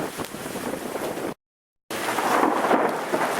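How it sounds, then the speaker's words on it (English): A loud, close thunder crash rumbles out of a heavy storm with rain, breaking into a brief silence before the roar and downpour come back. "It's a really close lightning strike."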